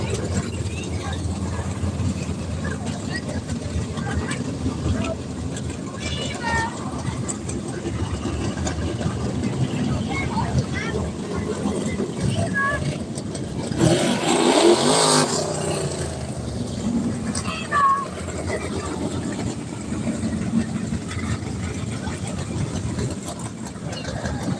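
Dirt track race cars, 6-9 chassis, rumble at a Creek County Speedway heat race, a low engine drone under a track announcer, with one car swelling loudly past midway through.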